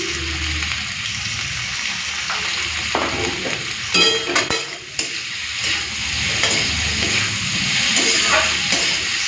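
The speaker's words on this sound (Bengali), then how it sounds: "তাই জন্য একটুখানি হাই ফ্লেম করে ভেজে নেবো ভালো করে" Potatoes with salt and turmeric frying hard in a pan over high flame: a constant loud sizzle broken by clattering stirs and scraping, with no talking.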